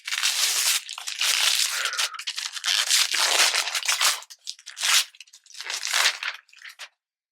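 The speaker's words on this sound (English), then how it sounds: "Let's unwrap them." Wrapped books being unwrapped by hand: close, loud bursts of paper tearing and crinkling that come in quick successive rips, with short pauses between them and no talking.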